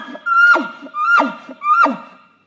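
A caller imitates an elk at an elk calling seminar: three rising, whistling bugle-like calls, each sliding up and then dropping into a grunting tail, loud and close with short pauses between.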